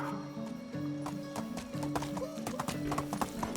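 Horse hooves clip-clop steadily in the medieval survival game Medieval Dynasty while a horse whinnies, with game music playing underneath, fairly close and moderately loud.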